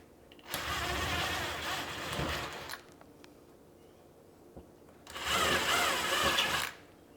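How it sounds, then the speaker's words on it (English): A power drill with a 1/4 inch bit bores holes for the expansion screws that mount a smoke and carbon monoxide detector, giving two loud, steady whirring bursts of about two seconds each with a quiet pause between. "Now I'm going to use the drill to make 3 holes."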